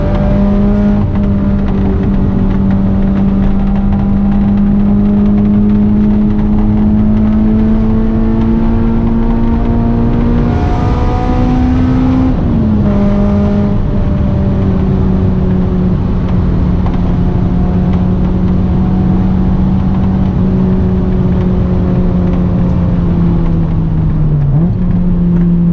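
A 2002 AP1 Honda S2000 drives with its engine droning loud inside the cabin, the pitch climbing steadily under acceleration, dropping at a gear change, then holding and dipping again.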